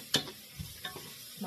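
Fire-roasted green chilies and poblanos being stirred in leftover bacon grease for tortilla soup, a faint sizzle with soft scraping stirs and a couple of sharp utensil clicks.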